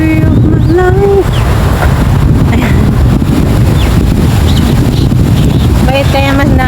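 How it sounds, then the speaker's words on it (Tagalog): Strong wind in a park buffets the microphone with a loud, constant low rumble, while voices speak over it in bursts. "Ayan, mahangin siya guys."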